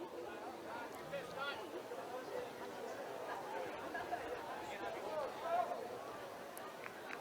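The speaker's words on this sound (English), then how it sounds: "Nice crowd here in Chapel Hill for a Friday evening ball game." Crowd at a Friday evening college baseball game in Chapel Hill, a steady wash of distant chatter and murmuring voices from the stands, continuous and moderately loud throughout.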